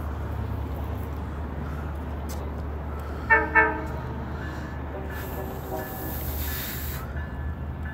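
A train rumbles steadily past with a low engine drone, and two short horn toots ring out close by midway. Hissing rail noise follows, with a voice talking in the background.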